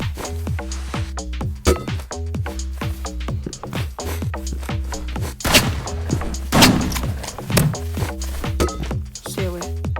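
Rapid, repeated gunfire from a shotgun and paintball gun exchange in the video game Rivals, with bursts of shots and heavier blasts in the middle, under a player's talking.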